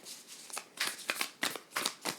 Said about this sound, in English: I'm going to shuffle some more on screen for you